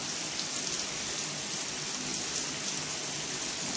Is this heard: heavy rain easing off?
yes